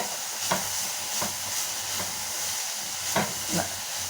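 Onion and carrot softening in a pan for carrot paniyaram, with a few spoon-stirring scrapes over a steady low sizzle, close and fairly quiet.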